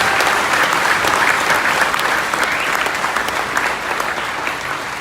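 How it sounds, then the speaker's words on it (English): A gala audience gives uniformed service workers a big round of applause, dense sustained clapping filling the hall, loud and even before tapering slightly toward the end. "I think we owe them a really big round of applause for everything that they do."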